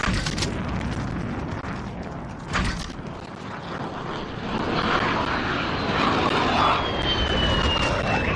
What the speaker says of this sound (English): Enemy vehicles in the AO. Okay, enemy VTOL.